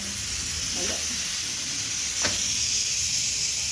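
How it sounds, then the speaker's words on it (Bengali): Roti frying in a hot pan gives a loud, continuous sizzle and hiss close by, with a couple of brief scraping touches from turning or pressing the bread. "আমি রুটিটা ভেজে নিচ্ছি"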